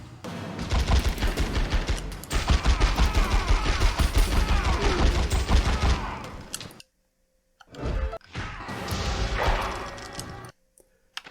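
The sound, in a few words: shotgun gunfire in The X-Files: Resist or Serve video game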